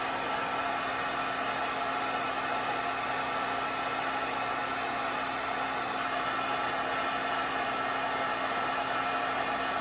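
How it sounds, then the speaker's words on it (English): A heat gun blows hot air over a handmade card, giving a steady, loud, unbroken whoosh with a constant motor hum that runs alone the whole time. "these tweezers come in handy so you don't burn your fingers, because this heat gun gets very hot"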